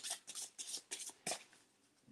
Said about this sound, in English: These talisman cards shuffle nicely, but they're really slippery